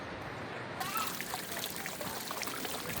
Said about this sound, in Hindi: सामने हमारे अब आबशार